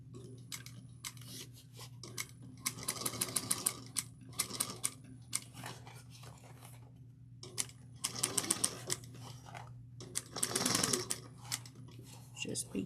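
A sewing machine top-stitches around a small tote bag in short bursts of rapid stitching separated by pauses, with a steady background hum and a voice talking over parts of it.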